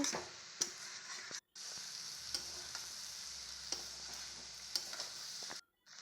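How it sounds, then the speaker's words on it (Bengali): Steady sizzling from chana dal frying with soybean and potato in a pan, with occasional stirring scrapes and two brief pauses in the sizzle. "ডালটা দিয়ে বেশ খানিক্ষণ কষিয়ে নেব"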